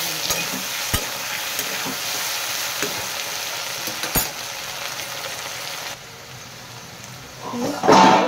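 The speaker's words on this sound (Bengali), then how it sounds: "আলুটা আমার লাল লাল করে ভাজা হয়েছে" Potatoes frying in hot oil in a pan for an okra dish: a continuous close sizzle with occasional spatula stirring clicks and scrapes, quieting slightly near the end.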